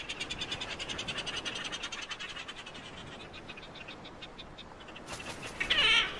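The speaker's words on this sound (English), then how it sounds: "resplendent terns perform strict courtship rituals" Resplendent terns call during courtship in the Atacama Desert, giving a steady run of rapid, shrill, repeated cries from a colony, with a louder harsh call near the end.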